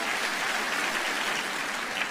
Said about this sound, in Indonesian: Tepuk tangan buat Tuhan yang dahsyat,